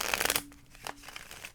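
A quick riffle of tarot cards being shuffled, crisp papery flutter close by, followed by softer taps and shuffling sounds.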